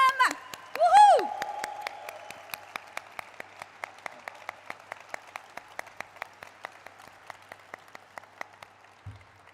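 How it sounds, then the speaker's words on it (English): Applause and a brief whoop for the Lenskart team at a stock listing ceremony, starting with a cheer, then settling into sparse, sharp individual claps that thin out and fade over several seconds. "let's give a thunderous round of applause for them"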